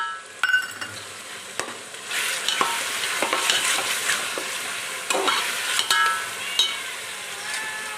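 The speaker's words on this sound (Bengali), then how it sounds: "এটা একটু ভেজে নেব।" Garam masala and chicken pulao ingredients frying in a pot, a moderate sizzle broken by frequent scraping stirs and knocks of a spoon against the metal.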